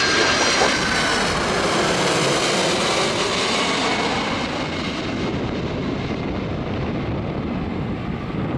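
UPS heavy jet touching down on runway 22 left at Boston Logan Airport in the evening: a loud, steady roar with whining tones that slowly fades as the aircraft passes, with no voices.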